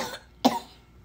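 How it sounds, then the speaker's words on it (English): A child gives one sharp, close cough after food went down the wrong pipe, a short burst with a faint earlier rasp, set against a quiet indoor background. "you done coughed all your little stuff up"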